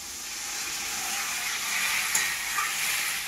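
A small splash of water hits a hot frying pan holding fish oil and mashed tomato, giving a steady, fairly loud hiss that swells slightly midway, with one or two faint clinks and no voices.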